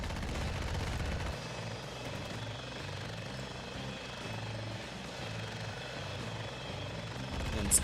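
A scout helicopter in a video game drones with a steady low rotor thrum and engine whine, constant and moderately loud, with a brief sharper noise near the end.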